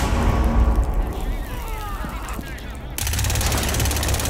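Gunfire in Rainbow Six Siege on the Border map: dense, loud bursts of shots erupt abruptly partway through, following quieter game ambience and scattered clatter.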